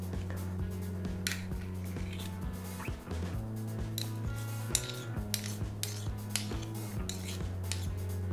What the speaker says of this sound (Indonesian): gue ambil sendok lagi supaya gampang